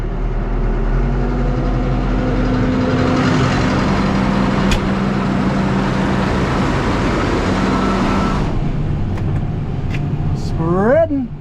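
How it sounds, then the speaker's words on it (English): A tractor engine running while spreading a dumped load on a farm, a loud continuous diesel drone with a deep steady hum, shifting near the end as other mechanical whines rise. "Speed up the tractor a little."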